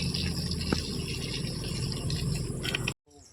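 Water spraying steadily in a back garden, a continuous hissing gush that runs loud and unbroken before cutting off abruptly near the end, leaving a brief quieter stretch.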